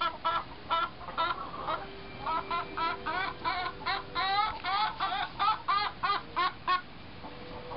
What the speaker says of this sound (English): She's chattering.